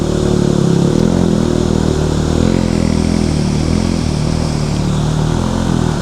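A motorcycle engine runs loud and close in the cold, a steady, rough mechanical drone with faint clatter that holds without pause throughout.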